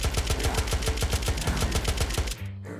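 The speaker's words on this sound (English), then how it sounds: "There's some shots going on over at Threat Grove" Rapid automatic gunfire in the survival video game Unturned, a steady burst of closely spaced shots that runs loud and close for over two seconds before cutting off, leaving a faint low hum.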